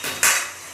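A lid lands on a metal cooking pot of greens with a single bright clank and a short ringing tail, close and distinct.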